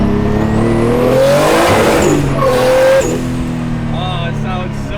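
Car engine revving loudly and rising in pitch close by, with wind and road roar, a shift at the peak, and a person talking over it.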